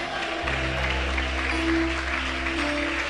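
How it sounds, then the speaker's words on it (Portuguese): A church congregation applauds the name of Jesus during a sermon: continuous, fairly soft massed clapping holds steady throughout, over a low electrical hum from the hall's sound system. "Alguém pode aplaudir o nome de Jesus?"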